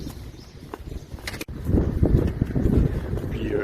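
Wind gusting outdoors along a path among vineyards, blustering against the microphone in a low rumble that swells louder midway and keeps buffeting.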